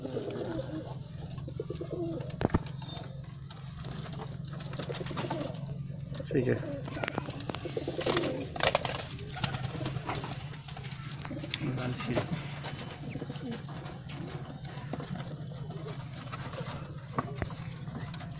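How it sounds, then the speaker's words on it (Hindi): Pigeons, including crested black-headed and red-headed pigeons, coo in low, throaty rumbles close by in a loft in Canning, West Bengal, India, with occasional wing flutters and someone talking over them. "चोटियाल कालशीरा कबूतर।"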